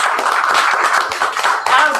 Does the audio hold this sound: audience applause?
yes